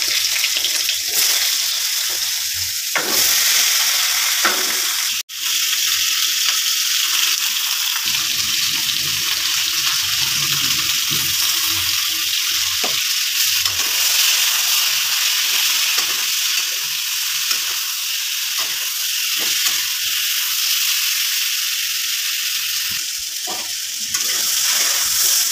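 Cucumber and potato frying in a hot pan, a steady close sizzle running throughout with small clinks and stirring noises, no talking.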